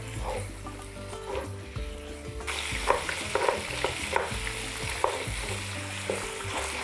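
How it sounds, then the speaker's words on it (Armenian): Pieces of meat sizzle loudly in a pan for a khashlama stew, with steady frying hiss broken by repeated scraping stirs and clattering turns, close up and with no talking. "Եվ տակնու վրա անելով եփում ենք այնքան, մինչև մսակտորները կարմրեն։"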